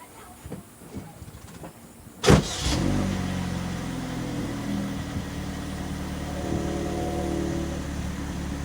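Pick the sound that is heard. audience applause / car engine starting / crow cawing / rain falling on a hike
car engine starting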